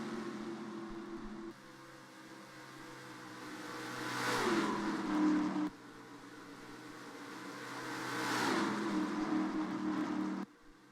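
Race car engines in the NASCAR Racing 2003 video game, a 1988-throwback race at Charlotte Motor Speedway, drone steadily with two rising, swelling passes as cars roar by and fade, loud and continuous with no talk.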